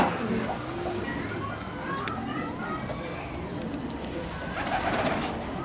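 A racing pigeon, a direct-import bird at a loft, gives soft repeated coos close by, with someone talking over them throughout.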